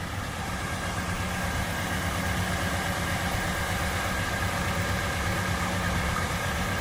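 A warm V8 in a 1968 Ford LTD sits at idle, giving a steady, low, even rumble that holds constant and close throughout with no revving.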